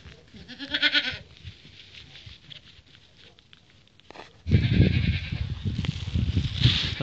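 Alpine goats bleat for water on a small farm; one loud wavering bleat up close, then fainter calls and shuffling, before a louder burst of rustling and movement noise near the end.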